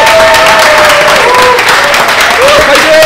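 A film crew claps together on the first day of shooting a drama, a loud, close burst of applause with voices talking and calling out over it.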